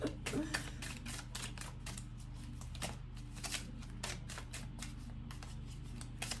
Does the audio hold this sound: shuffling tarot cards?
yes